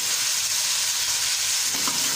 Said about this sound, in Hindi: इसको हम अच्छी तरह भूनेंगे गोश्त को